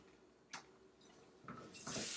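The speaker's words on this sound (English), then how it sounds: "rinse that out" Tap water running into a kitchen sink to rinse out a container, heard as a few short splashes and bursts of spray that swell into a steady, louder stream near the end, with no talking.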